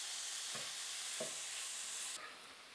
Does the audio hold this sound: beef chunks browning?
yes